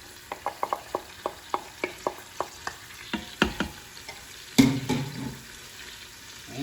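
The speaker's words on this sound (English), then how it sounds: "once that's all sizzling up, we're going to add our onion" Onion sizzling as it hits melted butter in an Instant Pot, stirred with a run of sharp, regular scrapes and taps against the pot, followed by a louder burst of frying.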